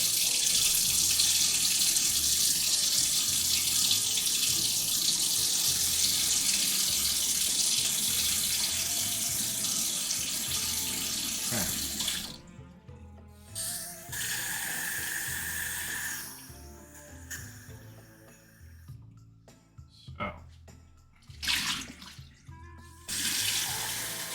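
Warm water runs steadily from a tap for about half the clip, a constant broadband rush, then cuts off, leaving quiet handling and clinking sounds.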